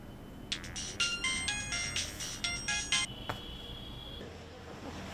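A melodic phone ringtone plays in quick electronic bursts for a few seconds on an outgoing call, fairly quiet against a steady room hiss, then settles into a single sustained tone.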